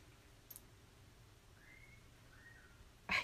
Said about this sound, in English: He just did the wolf whistle up there.